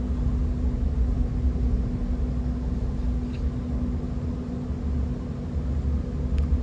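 Steady low rumble of the Manahan train pulling out of Kutoarjo station, a continuous droning engine hum with a faint tonal whine, heard from inside the carriage at even, moderate loudness throughout.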